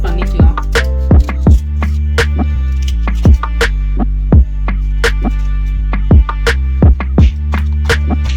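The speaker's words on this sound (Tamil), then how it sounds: "இப்போ இதை குட்டி குட்டி பீசஸா கட் பண்ணிக்கலாம்." A knife chops raw mango into small pieces on a board, a steady series of sharp, close thuds at an even rhythm over a loud low hum, no talk.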